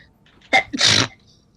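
One sharp, close sneeze: a quick indrawn catch, then a loud explosive burst lasting under half a second, heard alone in a quiet room.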